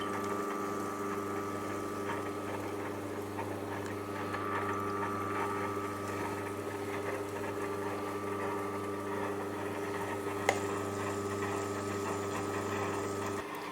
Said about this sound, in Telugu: గారెలకి మినపప్పుని వేసి గ్రైండింగ్ చేసేసుకుంటున్నానండి